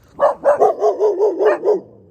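A dog lets out a quick run of about eight close, loud barks in steady rhythm, with no other sound around it.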